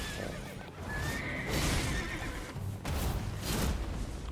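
Horse neighing in the Elden Ring video game, whinnies rising over galloping hooves and battle noise, loud and close, repeating through the stretch without speech.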